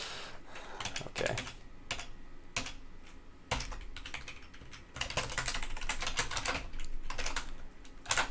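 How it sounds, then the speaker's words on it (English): Rapid bursts of computer keyboard typing during a programming stream, clicky keystrokes close up in uneven runs with brief pauses between them. "the sound of you typing is one of the reasons I find your stream entertaining"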